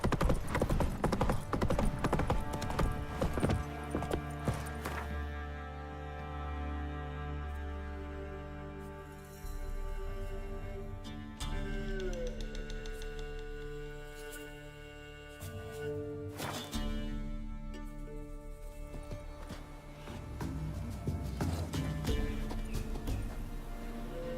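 Roach, the horse in The Witcher 3 video game, gallops with a steady, close clip-clop of hooves that runs throughout over a sustained musical score.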